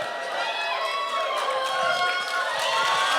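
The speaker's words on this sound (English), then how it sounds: "They can just cheer for 2 straight hours." A live podcast audience cheers and shouts continuously at a show, a dense, loud crowd roar that holds steady without break, with scattered voices rising out of it.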